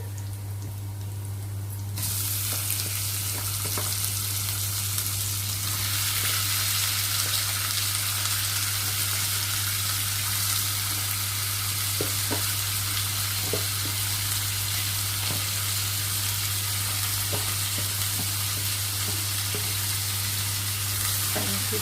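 Meat and onion fry in a pot, a loud continuous sizzle with a steady hiss and occasional crackles and stirring scrapes throughout.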